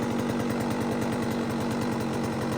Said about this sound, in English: let's let it idle down. Seems like it's idling about perfect